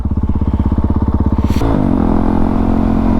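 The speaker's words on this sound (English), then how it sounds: "It's just my first ride on a CRF450" Honda CRF450RL dirt bike engine pulsing in a rapid rhythmic idle-like chug, then revving up into a steady, loud, sustained drone, close and alone without talk.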